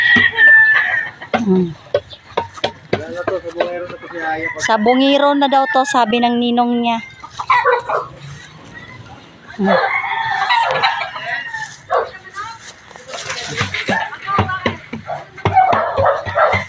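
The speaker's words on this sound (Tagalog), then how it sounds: "Daming manok." Chickens cluck steadily and a rooster crows loudly nearby at a poultry farm, with people talking intermittently over the flock.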